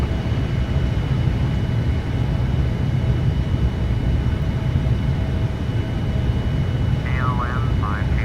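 A Boeing 787-10 jet airliner climbs out after takeoff, its engines a loud, steady broadband roar filling the whole span, with brief cockpit radio voices near the end.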